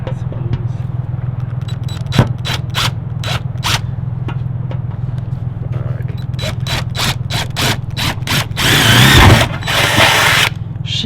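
A power drill bores a rivet hole into aluminum for a carbon fiber car part, with short loud bursts over a steady hum. A stronger grinding push of the bit follows near the end.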